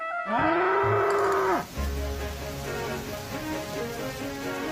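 A farmer's bull lets out one long, loud, deep moo, followed by steady rain falling on a surface that continues alone after the call ends.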